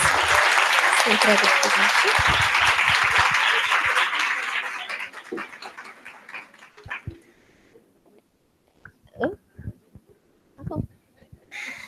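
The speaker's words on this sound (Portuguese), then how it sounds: "Eu queria uma salva de palmas para elas." Audience applause for milk-donor mothers at the 25th-anniversary event of the HU-USP human milk bank in São Paulo: a loud, dense clapping that gradually thins out and fades, followed by a few scattered noises and a voice.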